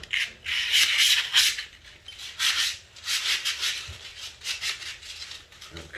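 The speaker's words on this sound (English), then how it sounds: "And while you got this off, you guys should sand it." A rear brake part from a mini bike is sanded by hand in a series of rough, rhythmic scraping strokes, close and fairly loud, with short pauses between bursts.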